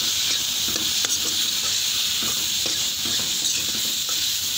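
Potatoes, turmeric and tomatoes frying in a little oil for a homestyle pigeon pea and potato curry: a constant bright hiss of sizzling with soft scattered stirring taps, close and even throughout.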